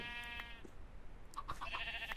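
Sheep bleat in a Minecraft survival game, one harmonic bleat early and a cluster of short bleats near the end, fairly quiet over a faint background hum.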